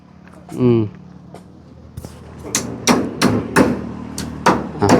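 Nails are hammered into wood by hand in a series of sharp close blows, about six strikes at an irregular pace, with a voice briefly heard at the start.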